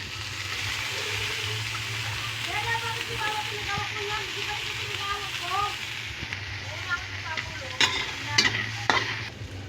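Onion and garlic sautéing in a hot pan give off a steady, close sizzle with stirring scrapes, while faint voices murmur in the background.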